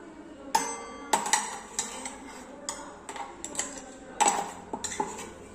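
Metal utensils clink and tap against a bowl and pots as crushed pepper leaves are moved across, a series of sharp close clinks with irregular rhythm and no talking.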